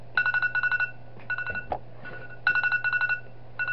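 A telephone rings in the Christmas horror video game Some Nights At Christmas, giving repeated bursts of rapid electronic trills in short groups separated by brief pauses, clear and fairly close, with a faint steady hum beneath.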